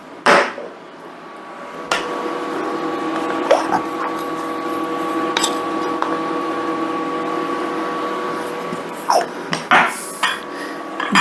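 Bacon jam with salt and pepper being stirred in a pan, a spoon clanking and scraping against the metal several times over a steady cooking hum, with no voices.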